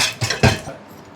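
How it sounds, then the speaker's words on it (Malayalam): Cooking pot being picked up in a home kitchen while preparing Onam food, giving two or three quick metallic clinks and knocks close by, then a fading ring. "ഇങ്ങനത്തെ പാത്രം എടുത്തുകൊണ്ടിരിക്കുകയാണ്"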